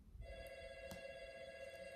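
A telephone rings with a steady electronic tone at low level, sounding alone in a quiet indoor room without anyone speaking.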